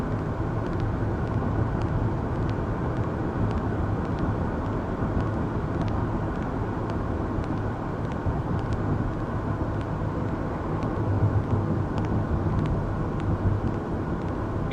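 A Hyundai Kona EV electric crossover corners and accelerates, giving a steady, close rumble of road and tyre noise with a faint motor whine that holds level throughout, and no one speaks.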